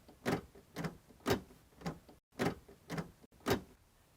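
A freshly cut key being tried in the door lock of a 2009 Ford Ranger, heard as seven evenly spaced, sharp mechanical clicks and clunks about half a second apart, close and clear with no talking.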